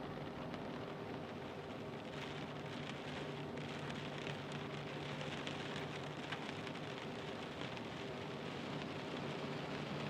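Rain in a flight simulator game during a foggy storm, a faint, even hiss of rainfall on a surface with a low rumble beneath, constant and unbroken throughout.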